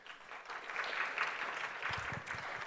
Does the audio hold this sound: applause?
yes